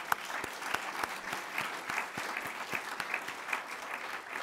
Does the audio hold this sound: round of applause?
yes